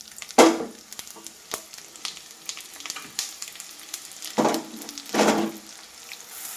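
Coriander seeds crackle and sizzle in hot ghee in a pan for Andhra-style gongura pickle: a close sizzle with sharp bursts as the seeds go in, plus light pops and scrapes between.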